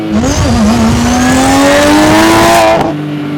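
A BMW M3 accelerating hard, its engine climbing loudly and steadily in pitch through the gear before easing off near the end, close and dominant, with no speech.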